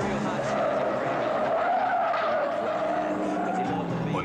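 A race car skids around a curve, tires squealing in one sustained, loud screech layered over engine roar for several seconds, with a voice talking over it.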